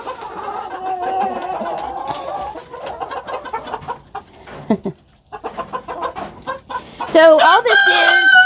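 Backyard chickens cluck and squawk excitedly over a treat of mealworms and snack mix on a cold morning, their calls loud and close, with someone talking over them and a sharp burst of squawking near the end.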